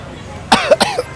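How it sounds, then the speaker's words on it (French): A quick run of three or four harsh coughs, close and loud, after a moment of quiet, at a spice market in New Delhi. "ça me fait tousser quand on va trop loin"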